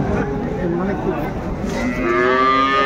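A dairy cow moos in a long, close, drawn-out low call that rises slightly toward the end, at the Ambari cattle market in Dinajpur.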